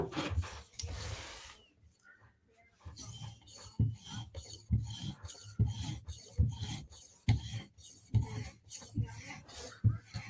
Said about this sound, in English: Let's give it a quick strop.